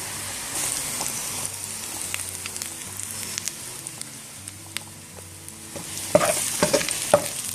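Garlic-ginger paste hits browned onions in a hot karahi for a dhaba-style chicken dish, setting off a steady close sizzle with stirring scrapes and sharp pops growing louder toward the end.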